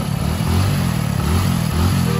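Motorcycle engine revving up and down in loud, rising and falling bursts, up close and with no talking.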